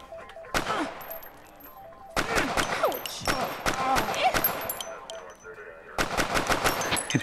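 Loud automatic gunfire in the Crisis VRigade VR shooting game, several rattling bursts separated by brief pauses, with faint speech underneath.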